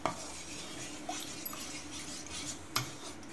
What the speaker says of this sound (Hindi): दोबारा से इसे पैन के अंदर ऐड कर लेंगे, अच्छी तरह से मिक्स करना है।